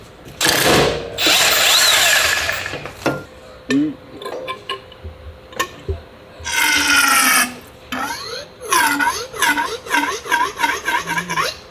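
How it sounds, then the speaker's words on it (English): A power tool unscrews the bottom bolt of a KTM 500 EXC-F suspension, loud whirring bursts that start and stop with rattling clicks in between, followed by a run of quick repeated ratcheting pulses near the end. "I've got to unscrew the bottom bit, which is on here."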